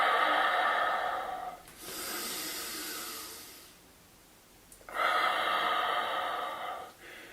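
Breathing during a plank exercise in a fitness session: two long, breathy airy exhalations close to the microphone, separated by a quiet pause.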